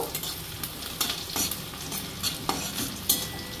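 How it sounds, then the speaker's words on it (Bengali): Chopped onion sizzles in hot mustard oil while a spoon stirs it, giving a continuous frying crackle broken by repeated scraping strokes against the pan, close and moderately quiet with no talking. "পেঁয়াজটা ভাজা ভাজা করে নেব।"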